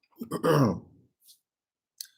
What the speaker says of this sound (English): Excuse me, guys, clearing my throat.